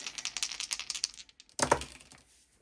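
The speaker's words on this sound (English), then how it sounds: "Let's roll the dice." Dice are rolled during an astrology reading, a quick run of small clicking rattles followed by a sharper clatter as they land and settle, fairly faint and close.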